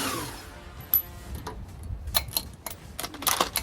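Ratchet backing out a 21 mm bolt from the lower shock mount on a Hummer H2's lower control arm, quiet scattered clicks in short uneven bursts against a faint background.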